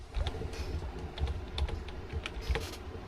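Close, steady clatter of computer keyboard keys being struck in quick succession, with no voices.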